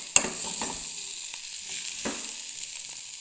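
Bitter gourd frying in a pan as chilli powder and lentil powder are added, a sharp clack at the start, then brief stirring scrapes over a steady hiss of oil.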